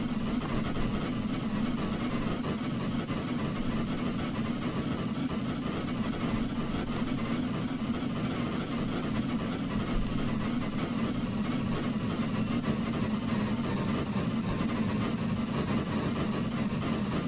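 A K1 locomotive engine runs with a steady, unchanging low rumble and hum that holds evenly throughout, with no voices.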